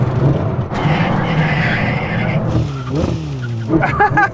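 Ferrari SF90 XX braking hard, with loud, close tyre squeal and skidding under engine noise that drops in pitch as the car slows, ending in a short rising engine note.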